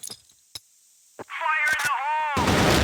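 Gunfire in a competitive CrossFire esports match, with a few sharp isolated shots and then a denser burst near the end, heard under a commentator talking over warbling game effects.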